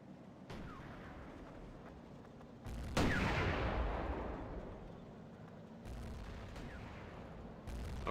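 Gunfire and a heavy blast ring out in the World War II combat game WWII Online, with a few sharp reports before one loud burst that rolls and fades, then more distant shots.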